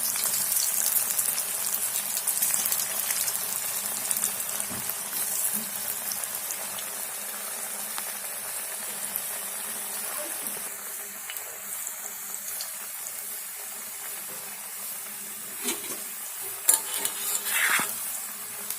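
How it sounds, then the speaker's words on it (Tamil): Green chilli cauliflower snacks deep-frying in hot oil on a high flame, a steady bright hiss and crackle that runs throughout with small pops scattered across it. "இது வந்து நல்லா ஹை ஃப்ளேம்லேயே வச்சு நல்லா பொரிச்சு எடுக்கணும்"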